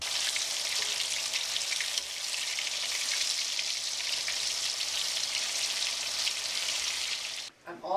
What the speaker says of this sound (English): I'm all done frying this Gouda.